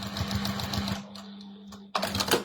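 A sewing machine stitching a festive table mat runs in a rapid, close mechanical chatter, pauses briefly, then starts again just as loud.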